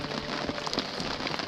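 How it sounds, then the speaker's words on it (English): Steady rain patters on a sailing boat under way near Umeå, a dense continuous hiss of drops striking the deck and surfaces, close and even throughout with no voices. "Raining, raining, raining."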